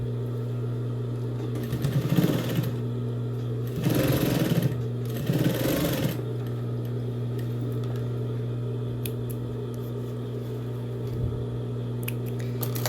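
A sewing machine stitches bias binding onto the edge of a fabric pencil case in three short bursts of whirring, separated by pauses, over a steady low electrical hum.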